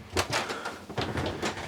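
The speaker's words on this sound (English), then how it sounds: "Easy sliding door." The sliding door of a 2021 Kodiak Ultra-Lite 261RBSL travel trailer RV, heard as a series of close rolling swishes and soft knocks as it slides along its track.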